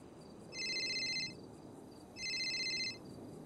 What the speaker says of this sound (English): Who's ringing me now?